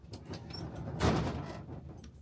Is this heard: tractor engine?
no